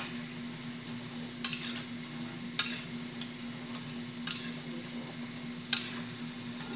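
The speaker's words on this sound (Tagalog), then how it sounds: "Nagprito ko ng konti." Food frying in a pan, a steady low sizzle with a few faint clicks and taps from utensils at irregular moments, heard alone without speech.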